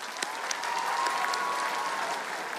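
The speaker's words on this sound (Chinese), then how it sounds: "给大家一个掌声" A studio audience at a televised street dance competition applauds in a steady, dense wash of clapping that holds evenly for a few seconds, with no talking over it.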